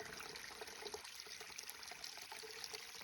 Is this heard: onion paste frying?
no